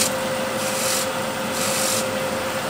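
A wood turning gouge cuts a wooden bowl on a lathe, giving a loud, continuous rough shearing whir that swells and fades in broad passes, with a steady motor hum underneath and no voices.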